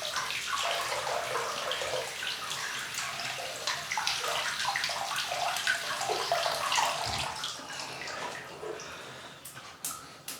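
Tap water runs steadily into a basin to wet a shaving brush, a close, continuous splashing stream with small gurgles and drips throughout.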